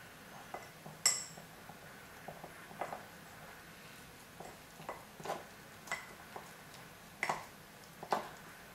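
Faint, scattered clinks and light taps of a spoon against a container come as flour and water are stirred together for a sourdough starter, irregular and quiet with brief pauses between strokes.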